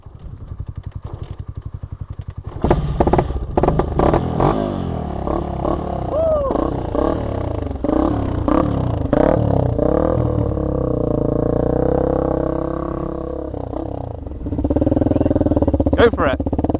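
A trail motorcycle out greenlaning in Mid Devon is kick-started, catches after a few sputtering tries and is revved with rising and falling engine roar, close up, while riders talk over it.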